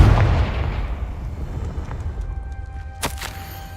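A Confringo spell explosion in the Hogwarts Legacy video game, a loud blast at the start that fades into a low rumble, followed by a sharp crackling burst near the end.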